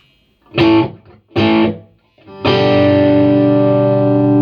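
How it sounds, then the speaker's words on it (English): Two short electric guitar chords followed by a long sustained chord ringing out, clean amplified tone from a Fender FM212R amp with a reverberant tail. "Sounds like an old deluxe with some reverb, like an old deluxe reverb maybe."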